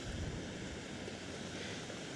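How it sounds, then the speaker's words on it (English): Strong wind buffets the microphone at a beach near a pier on the North Carolina coast, a loud, continuous roar with surf mixed in and no talking. "And look at how windy it is."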